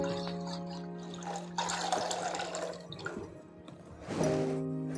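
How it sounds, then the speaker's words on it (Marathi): Water poured from a small copper pot into a kadhai on a gas stove, heard as a close splashing gush that fades and then briefly returns near the end, no one speaking. "तर ह्याच्यात आपल्याला 1 तांबे असं पाणी ओतायचं आहे"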